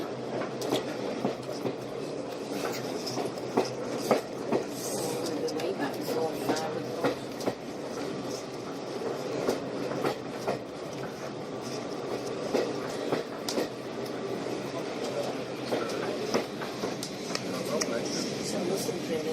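A heritage train runs on the North Norfolk Railway between Holt and Sheringham, with steady rumbling and rhythmic clickety-clack of wheels on rail heard from inside the carriage while passengers chat.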